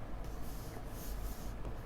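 Pen writing on paper, a soft close scratching with short strokes and pauses, low and steady under a dull background rumble.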